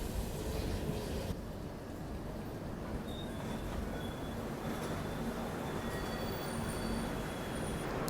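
The Mandovi Express rolls into Thivim railway station with a continuous low rumble of wheels on track and thin, high squeals of braking wheels running through it.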